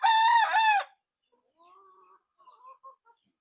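A gamefowl rooster on a game farm crows once, loud and close, then softer clucking and short calls follow after a brief pause.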